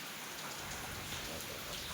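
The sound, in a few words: heavy rain falling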